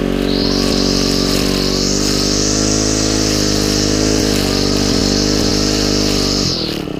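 A Husqvarna 224L string trimmer being used as an edger runs close and loud at steady high throttle, a buzzing two-stroke drone with a whining cutting tone, then drops to idle at the end.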